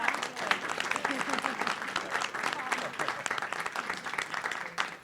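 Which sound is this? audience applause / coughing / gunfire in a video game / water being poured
audience applause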